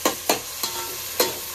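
Tomatoes go into a hot pan for a Kokani-style crab curry, with four sharp clacks of a spoon stirring against the pan at irregular intervals over a low hiss, close up and without speech.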